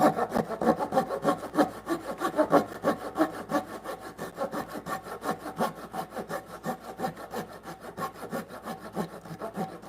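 A hand saw rasps steadily through wood in quick, even back-and-forth strokes, close up and continuous for the whole stretch.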